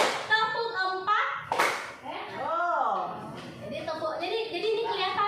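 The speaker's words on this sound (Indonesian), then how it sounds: "tepuk 1, tepuk 2, tepuk 3, 2, 3, tepuk 4" A classroom group of teachers claps a counted pattern, single and multiple claps in rhythmic sequence, close and clear, with a voice calling the count between clap bursts at a special-needs school training session.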